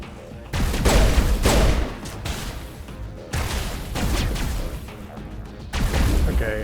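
Repeated bursts of gunfire fill a Mass Effect Legendary Edition firefight in the snow on Noveria, loud overlapping shots in several clusters with brief gaps between them.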